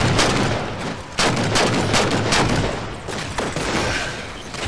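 Rapid gunfire and explosive bursts in the Halo 4 video game during a Spartan Bowl match, dense overlapping shots and booms, loud and sustained with no speech.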